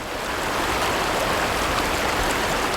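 A waterfall roars loudly and steadily, a dense unbroken rush of falling water filling the whole scene with no pauses and no voices.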